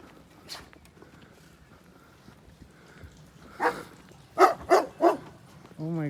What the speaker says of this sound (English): in the background it will be the dog's bark